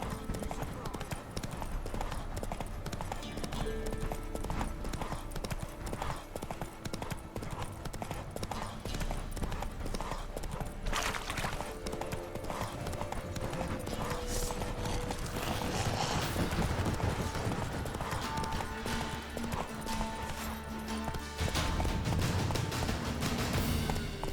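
Horse hooves clip-clop in a steady rhythmic gallop in The Witcher 3: Wild Hunt, with some whooshing game ambience and occasional clatter throughout.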